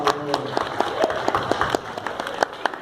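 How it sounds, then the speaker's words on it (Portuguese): An audience claps for a volunteer couple, with crisp, uneven hand claps from a moderate crowd rippling steadily at close range. "uma salva de palmas, por favor"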